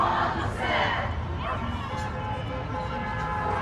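A large outdoor crowd chants Slava Ukraini, a dense, loud wash of massed voices that stays continuous and roughly even throughout, with no single voice standing out.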